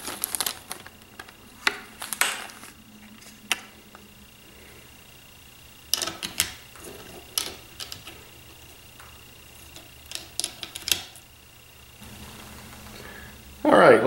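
Plastic wrap is peeled from an HO scale model gondola by Atlas, giving scattered crinkles and rustles with quiet gaps between them, close up and without talk.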